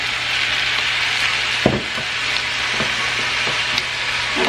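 Soy sauce splashed into a hot pan with onions sizzles in a steady broadband hiss, punctuated by a few sharp crackles and spatula taps.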